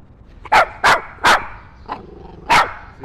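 A dog barks five times in sharp, loud bursts with short gaps between them, close by, with light background noise between barks.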